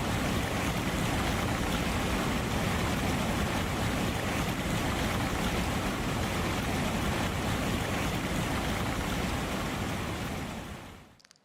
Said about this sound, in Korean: 이구아수 폭포입니다.